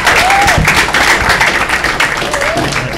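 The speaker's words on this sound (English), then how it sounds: "Everybody give our men's basketball players a round of applause" Audience applause for men's basketball players at a Tiffin University radio broadcast, steady dense clapping filling the whole moment with crowd murmur mixed in.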